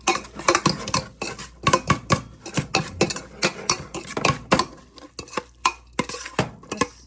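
Puffed rice for churumuri being mixed in a bowl, giving a run of sharp, irregular scraping and clinking strokes close by, with no talking.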